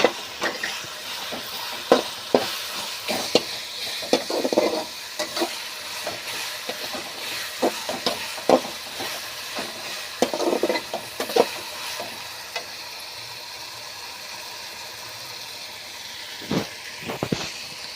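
Onions and tomatoes sautéing in oil for chicken kurma, a gentle ongoing sizzle broken by frequent scraping stirs of a spoon against the pan, closer and louder in bursts.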